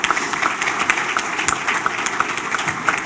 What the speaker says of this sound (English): Let's give all of us a nice round of applause